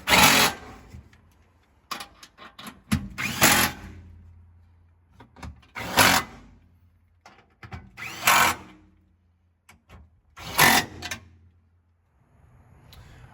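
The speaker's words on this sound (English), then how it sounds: "tighten them down with a 10 millimeter socket" A 10 mm socket tightens bolts on a Fiat 124 Spider Abarth during a lowering spring install. Short, loud bursts of tool noise repeat every second or two, with quiet gaps between them.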